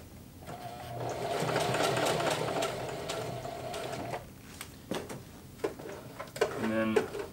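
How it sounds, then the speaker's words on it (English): A Singer HD sewing machine runs a straight stitch for a functional repair, with a loud close mechanical whir for about four seconds. It then stops, and short clicks and handling noises follow. "So we'll start with a straight stitch."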